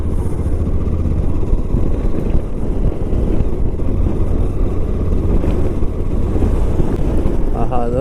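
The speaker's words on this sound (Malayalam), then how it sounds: "കാറ്റ് ഇങ്ങനെ ഇങ്ങനെ അടിച്ചോണ്ടിരിക്കുക." Wind roars steadily against the microphone during a motorcycle ride near Rameswaram and Kanyakumari, with a dense low rumble from the moving bike underneath and a faint voice briefly audible near the end.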